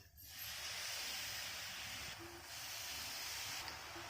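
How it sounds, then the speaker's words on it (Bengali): Vinegar poured into a hot pan of masala Maggi noodles gives a steady, loud steaming hiss that runs almost unbroken from start to finish, with no voices. "এই যে আমি একটু ভিনিগার দিয়ে দিচ্ছি, এক ঢাকনা দিয়ে দিচ্ছি।"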